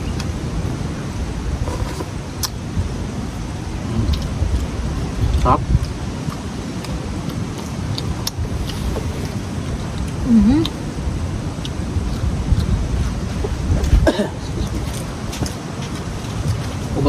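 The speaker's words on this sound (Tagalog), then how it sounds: "Sobrang mahangin ngayon sa amin." Strong seaside wind buffets the microphone in a steady roar with occasional gusts, alongside faint background noise and a brief spoken word.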